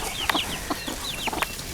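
Chickens cluck and squawk in a muddy backyard coop on a rainy homestead, several short calls scattered through a steady wash of rain or background noise, fairly close, with no talking.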